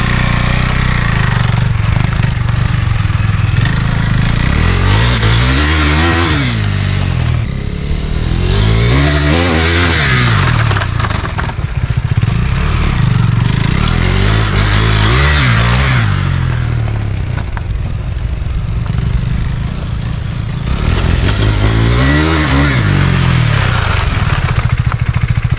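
A Husqvarna Svartpilen 401 motorcycle rides on sand and dirt, its loud engine revving up and easing off in repeated surges across the whole stretch.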